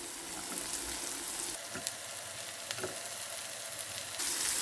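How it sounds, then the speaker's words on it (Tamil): Carrots fry in a pan for sweet kuzhi paniyaram, a steady close sizzle running throughout with a few faint stirring clicks and the hiss swelling slightly near the end. "கேரட் கொஞ்சம் பொரியறதுக்கு லேட்டாகும்"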